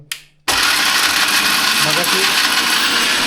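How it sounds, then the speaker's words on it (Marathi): Mixer grinder blending mutton masala with hot water, a loud continuous motor whir starting abruptly after a brief moment of sound and running steadily at close range. "आता मिक्सरला लावतोय आम्ही"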